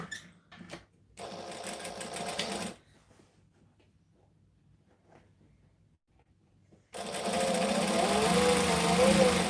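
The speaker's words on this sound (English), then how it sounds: "So I'm just sewing up the front." A sewing machine sews up the front of a bag, a steady mechanical whir in two loud, close bursts separated by a quiet stretch, with a few short knocks at the start.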